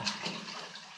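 A little shower of water splashes over a diver after an underwater cave dive, a brief broad watery rush that stays fairly steady and close for about a second.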